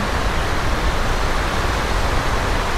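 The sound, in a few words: powerful waterfall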